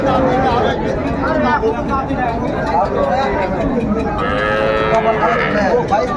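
Sahiwal cow with her calf at a crowded rural cattle market, lowing amid loud, continuous crowd chatter and other livestock noise throughout.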